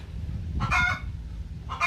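Free-range gavran chickens at a poultry farm, with two short bursts of rooster crowing or loud clucking rising over a low steady farmyard background, no talk.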